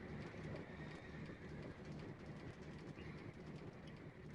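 A train rolls along a long player-built railroad in a video game. It makes a continuous rumbling clatter of wheels on track, steady throughout, with no talking over it.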